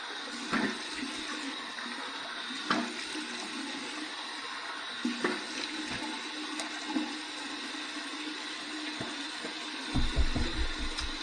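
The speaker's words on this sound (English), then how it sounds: "Here's my warm water rinse." Warm tap water runs for a rinse after a safety-razor shave, a continuous splashing stream broken by several sharp splashes and knocks as the water is used, with a louder gush at the end.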